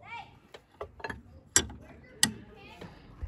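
A nut being worked off a Jeep XJ rear brake spring during a ZJ disc brake swap, heard as quiet metallic clicks and ratcheting with a few sharper clanks, close by, with no talk.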